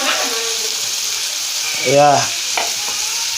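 Fish going into a hot pan with fried onions and tomato, a loud continuous sizzle with a brief stirring swell partway through and a short spoken word over the frying.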